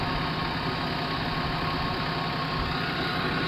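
A tractor engine idling while hitched to a seeder in a field, a steady low rumbling drone with constant vibration, close and even for the whole stretch, with no talk.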